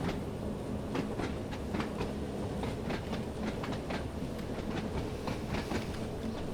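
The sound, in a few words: 1938 tube stock train running in Train Sim World video game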